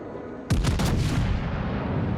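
Heavy battleship guns fire in World of Warships from the Italian ship R. Lauria, a sudden loud booming salvo with several quick blasts, then a long rumbling decay under steady background noise.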